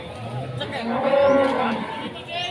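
A Limousin cow at a cattle market in Pati gives one drawn-out, fairly close moo lasting about two seconds, with faint crowd noise around it.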